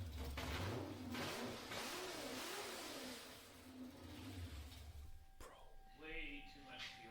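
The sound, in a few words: LS car engine revving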